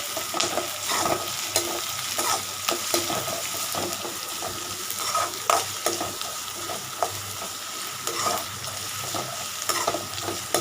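Crushed ginger, garlic and green chilli sautéing in hot oil, a continuous sizzle with repeated scraping and knocking of a stirring spoon against the pan throughout.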